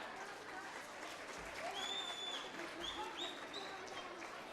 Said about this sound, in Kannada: ಅವರಿಗೆ ನಿಮ್ಮೆಲ್ಲರ ಪರವಾಗಿ ಜೋರಾದ ಚಪ್ಪಾಳೆ